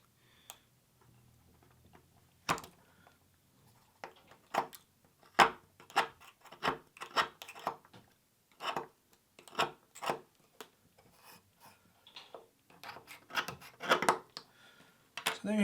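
A plastic sensor housing is trimmed and chamfered by hand, giving faint, close, irregular ticking and snipping clicks that come in scattered bursts against a quiet background.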